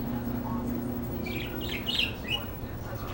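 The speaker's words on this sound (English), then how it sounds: "He's a good bird." A pet parakeet-type bird chirps and squawks in a few quick, bright bursts near the middle, faint against a low steady room hum.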